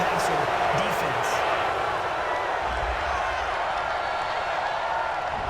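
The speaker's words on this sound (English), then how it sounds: "this crowd does not like that call" Football stadium crowd at an NFL game between the Philadelphia Eagles and San Francisco 49ers lets out a broad, sustained roar of disapproval after a roughing-the-passer penalty, with a commentator's voice briefly audible over it.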